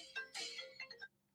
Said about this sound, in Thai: มีสายโทรศัพท์เข้ามา